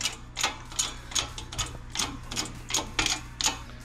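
A solid spherical bearing for a Ford GT350 is pressed into place, giving a fairly quiet run of about a dozen sharp mechanical clicks and ratchet-like snaps at an uneven, quick rhythm, with no voices.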